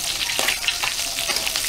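Garlic frying in hot oil in a small home batch being crisped, with a steady crackling sizzle throughout and scattered sharper pops, close and moderately loud, no talking.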